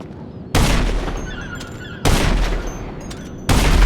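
Raiju jet firing at enemy jets in GTA Online: three heavy, booming bursts of cannon fire, each sharp onset followed by a decaying roar, spaced about a second and a half apart.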